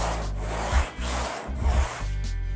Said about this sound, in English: So this is called block sanding.